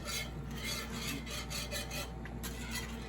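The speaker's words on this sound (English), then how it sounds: "just by whisking this, I can feel that it's starting to thicken" Whisking sauce in a pan for spatchcock roasted chicken, a continuous soft rhythmic scraping and swishing of the whisk, steady and close.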